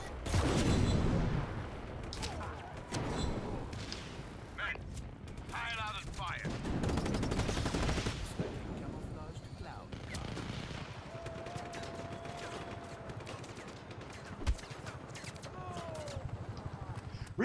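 Scorpion gun firing in Just Cause 3, with bursts of gunfire and booms spread through a busy, loud stretch of game action, while a player exclaims and chatters over it.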